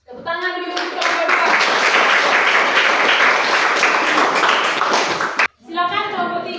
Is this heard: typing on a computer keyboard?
no